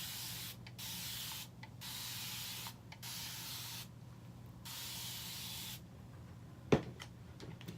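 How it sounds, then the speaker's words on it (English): A handheld spray bottle mists water onto hair in five quick bursts of close, breathy hiss separated by short pauses, followed by a soft click and rustle. "So I'm just gonna spritz my hair a little bit more."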